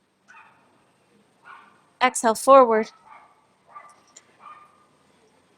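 Dogs bark in a short, loud burst of several overlapping yips and barks in a room where a gentle yoga class is under way, while an instructor speaks calm breathing cues before and after.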